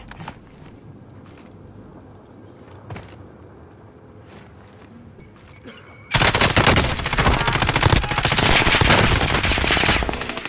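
Gunfire in Warzone Pacific, a battle royale shooter, breaks out after quiet movement and faint footsteps, becoming a loud, sustained burst of rapid automatic fire that continues close by to the end.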